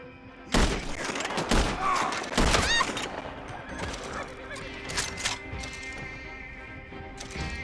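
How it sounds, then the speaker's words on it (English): Several sharp gunshots crack out close together in Red Dead Redemption 2, loud and near, followed by scattered fainter shots over a busy ambient bed with a horse whinny. "Who else is shooting?"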